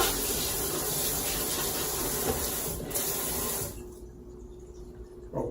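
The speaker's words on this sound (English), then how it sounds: "Then we just rinse it all out because there are shavings." Water runs loudly and steadily from a tap to rinse fish shavings from a sink, a continuous hissing spray that cuts off abruptly near the end, leaving a quieter background.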